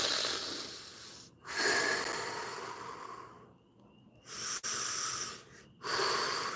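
Deep, slow breaths in an arm-wrestling setting, long loud hissing exhales and inhales separated by short silent pauses, close to the microphone and without speech.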